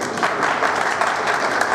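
An audience at a public event in Chamba marking Ambedkar's birth anniversary claps steadily and fairly loudly, a dense continuous round of applause throughout.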